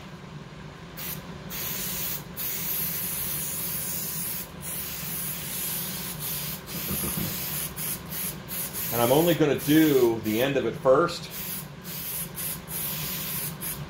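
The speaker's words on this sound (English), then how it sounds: "Spray adhesive" A spray adhesive aerosol can sprays in a couple of short hissing bursts, with someone talking quietly before and during the spraying.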